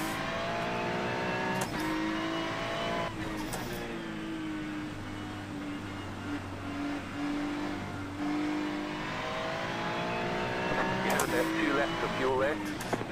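Race car engine in an iRacing GT sprint at Monza, droning steadily with pitch rising and falling through shifts and braking, while someone talks over it throughout.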